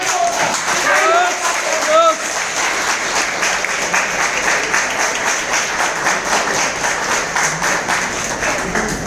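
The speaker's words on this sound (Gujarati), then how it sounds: "જોરદાર તાળી" Loud, sustained applause from an audience at a business income-and-product meeting, with steady clapping running for about nine seconds and a little voice mixed in.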